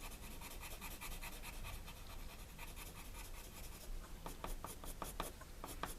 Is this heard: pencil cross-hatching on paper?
yes